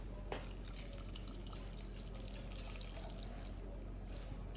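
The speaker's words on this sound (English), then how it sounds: "drain a little juice out of this one. Okay, and pour that one in" Liquid from a can of corn is drained and poured, a steady trickling, splashing stream with occasional drips, close and continuous throughout with no talk.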